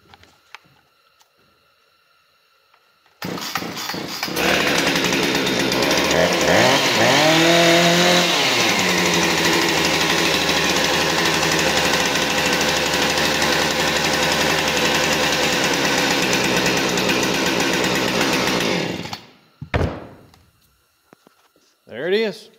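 A Husqvarna 455 Rancher chainsaw with a new carburetor, started after a quiet spell and running loud and steady with a brief rev near the start, then cut off, with someone speaking.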